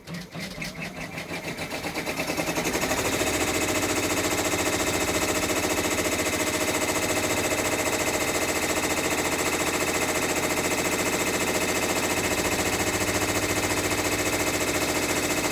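A Brother embroidery machine stitches out an Easter tiling scene on fabric, starting with a few slow thumps, then settling into a loud, steady, rapid mechanical chatter that runs without pause, no voices.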